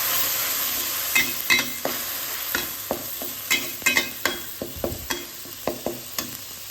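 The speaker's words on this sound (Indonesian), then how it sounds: "Ini kita tumis dulu sampai benar-benar matang." Spice paste for a bitter-vegetable stir-fry fries in a pan over a soft steady sizzle, punctuated by a series of sharp spatula scrapes and taps at an uneven rhythm, close by.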